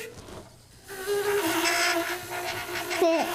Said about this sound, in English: When you did that, it sounded like a bee.